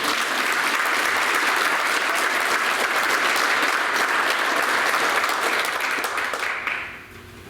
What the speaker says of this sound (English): How about a round of applause for Janet Cunningham?